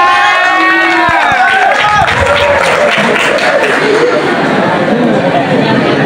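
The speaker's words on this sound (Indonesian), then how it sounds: "Kasih tepuk tangan." A crowd breaks into lively clapping and cheering, loud and dense, with scattered shouts and chatter mixed throughout.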